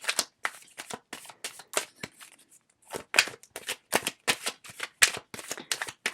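A deck of cards is shuffled repeatedly, with rapid riffling bursts and crisp snapping flutters in a quick irregular rhythm, broken by a short pause before the shuffling resumes.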